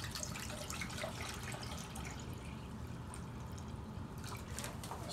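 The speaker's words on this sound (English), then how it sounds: "remove 2 quarts of water out of it. And pour some in this pan." Water from a gallon jug pours into a pan, a steady faint splashing hiss that runs on without a break, with no one talking.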